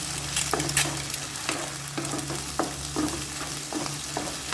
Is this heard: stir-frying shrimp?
yes